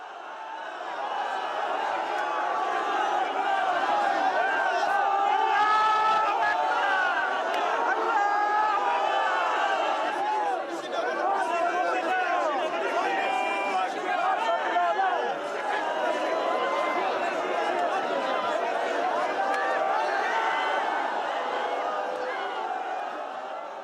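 Large, emotional crowd at the funeral of Commander Massoud, a dense roar of overlapping voices, shouting and wailing that stays loud and unbroken throughout.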